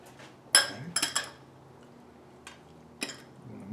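A fork clinks against a bowl while mixing pickled radishes and spiralized cucumbers, a few sharp metallic taps in quick clusters with quiet gaps between, close and alone.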